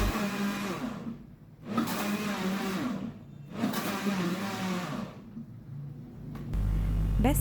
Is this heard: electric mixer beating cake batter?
yes